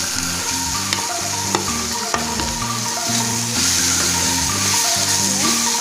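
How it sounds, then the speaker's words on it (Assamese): Jackfruit seeds fry in a wok with a loud, steady sizzle, broken by occasional scrapes and clinks of stirring; no voices are heard. "এতিয়া মই ইয়াত কেৰাহীত দি দিম।"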